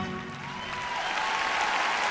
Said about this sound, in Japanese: 大きな拍手が送られます。